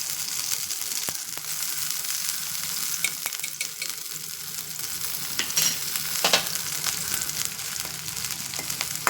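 Dried prawns fry in foaming sesame oil, a loud continuous sizzle and crackle with occasional stirring scrapes, close and without talk.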